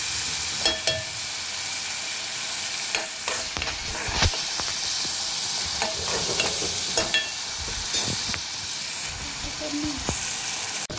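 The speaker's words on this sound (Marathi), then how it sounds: "तेल सुटेपर्यंत आता हे आपल्याला मसाला हा पूर्ण शिजवून द्यायचा" Prawn masala paste frying in oil with a little water added, a steady busy sizzle and hiss with repeated stirring scrapes and clinks throughout, close up.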